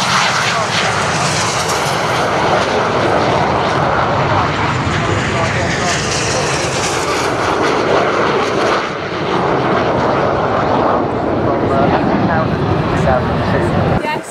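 Red Arrows aerobatic jets fly in formation at the RIAT 2012 air show, a loud, continuous jet roar that fills the whole stretch while an announcer talks over it.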